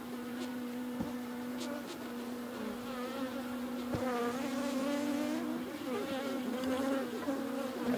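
Honey bees swarm and buzz around an opened horizontal hive split, a steady close hum filling the whole stretch with shifting wingbeat tones and no talk.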